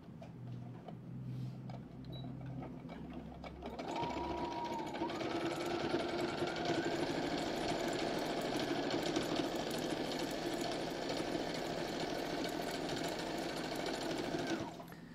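A sewing machine stitches with a standard presser foot during a sewing class, running as a steady, close, continuous whirring hum for the last eleven seconds after a quieter start.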